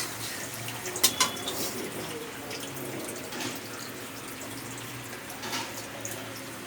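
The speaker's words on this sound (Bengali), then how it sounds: "এবার আমি ঝোল দিয়ে দেবো।" Water is poured into a pot of aar fish curry with boiled potatoes, a steady close-up gush with a couple of sharper splashes near the start and no talking.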